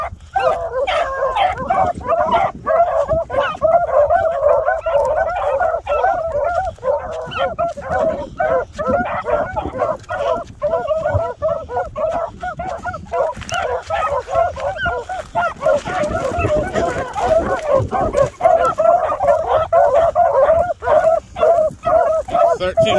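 A pack of seven hunting dogs chasing a rabbit, barking and yipping continuously in an excited, overlapping chorus, loud and close, with occasional human voices mixed in.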